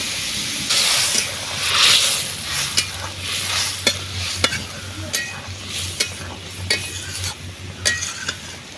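Nigella seeds, chili powder, turmeric and salt fry in a pan, giving a loud hissing sizzle broken by repeated sharp spatula scrapes and clacks at a steady stirring pace, with a low hum running beneath.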